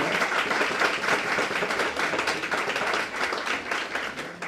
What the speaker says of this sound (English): can you give him a round of applause again for being one of our first members